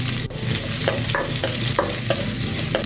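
Shallots frying in hot oil with mustard seeds and curry leaves, a steady close sizzle broken by several sharp scraping stirs of a spoon against the pan, with no talking.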